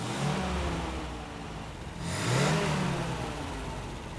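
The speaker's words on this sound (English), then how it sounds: "And instantly, the power of the engine doubles." The engine of a 1969 MG MGC Roadster revs up, holding a steady roar, then surging louder and higher around the middle before settling into a sustained, fairly loud run.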